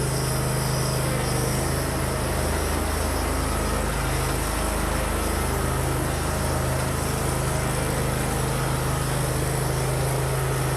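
A John Deere Z950M zero-turn mower with a Kawasaki engine runs at half throttle, giving a steady, loud, close-up mechanical drone with a strong low hum that holds constant throughout, with no voices.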